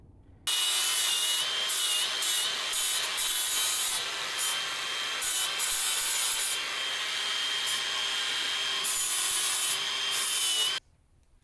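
An angle grinder working on the ground clamp of a 30-year-old Lincoln MIG welder, a loud, close, steady abrasive whine that runs for about ten seconds, its pitch wavering slightly as pressure changes.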